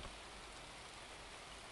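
Rain in the video game Grim Soul, a steady, soft hiss of falling drops with no break, heard faintly and alone.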